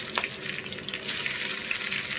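Onions drop into hot oil spiced with cumin, bay leaf and dried chili, starting a loud steady sizzle that swells suddenly partway through and keeps hissing without talk.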